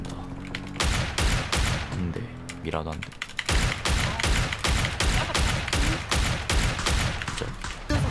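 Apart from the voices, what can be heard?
gunfire in the video game PUBG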